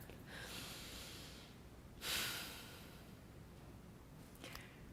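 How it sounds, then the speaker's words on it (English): A worship congregation takes one shared breath together, a single soft, broad rush of air midway through, set against a quiet, hissy room. "Let's take a breath."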